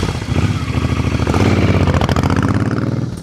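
A 2005 Suzuki C50 Boulevard cruiser with stock intake and exhaust runs close by, its fuel-injected engine throbbing in an even, loud pulse and swelling briefly as it revs.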